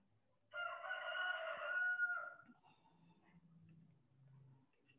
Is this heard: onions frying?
no